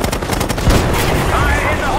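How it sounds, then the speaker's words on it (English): Rapid bursts of gunfire in a Call of Duty video game battle, loud and close, with repeated rattling shots running through the whole stretch and a heavier blast partway in. "God damn, we're taking fire!"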